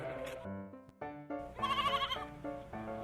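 A goat bleats in a storybook scene, giving several wavering, nasal cries in a row, clear and close with short pauses between them.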